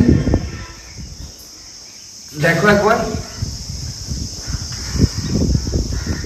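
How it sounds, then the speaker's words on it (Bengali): Loud, continuous high-pitched chirping of a cricket in a forest near Bakkhali running throughout, with wind noise and a person speaking briefly partway through. "এখানে একটা কোনো ঝিঝি পোকা ডাকছে চি চি করে, প্রচুর জোরে আওয়াজ হচ্ছে"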